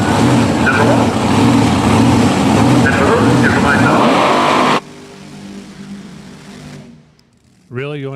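A Top Dragster drag racing car doing a burnout at Lebanon Valley Dragway, loud roaring engine with tire squeal for several seconds, then dropping to a quieter rumble before a sharp revving burst returns at the end.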